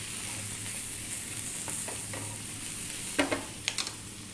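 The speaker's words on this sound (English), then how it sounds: "we're now going to add in our garlic" Chopped garlic sizzles and hisses steadily in a frying pan while making an eggplant tomato pasta, with a few sharp stirring clicks near the end over the constant frying hiss.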